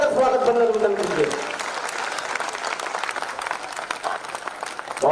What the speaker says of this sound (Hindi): जोरदार ताली बजाकर स्वागत बंदन कीजिए।